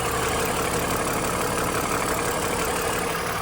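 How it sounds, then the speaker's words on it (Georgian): A BMW E46 with an M54 engine runs loud and steady at high idle, a dense continuous roar with a rough, slightly knocking undertone. "ეხლა დიდი ხმა ძრავს,"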